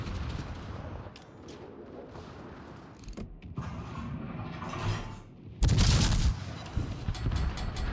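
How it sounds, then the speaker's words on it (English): Warship guns firing armour-piercing shells in a naval battle video game, with rumbling distant booms and a dense, loud burst of gunfire near the end over continuous low engine and sea background. "that's a lousy position to be in with Wu Jing firing lots of AP shells at me"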